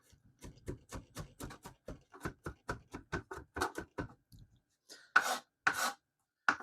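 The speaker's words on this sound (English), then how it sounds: "4 large garlic cloves, and we'll just get it started by giving them a nice little pounding" Four large garlic cloves are pounded in a quick, steady run of about twenty close, crisp thuds, followed by a couple of rougher crushing, scraping bursts.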